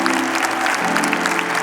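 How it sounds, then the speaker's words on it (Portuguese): A Catholic congregation at Mass applauds steadily, a dense, continuous patter of many hands filling the whole moment with no speech over it. "E vamos aplaudir o nosso Senhor e Rei."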